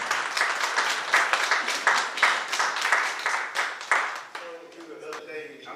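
Audience applause at a real estate team event, a crisp burst of many hands clapping near and loud that tapers after about four seconds as a voice begins speaking.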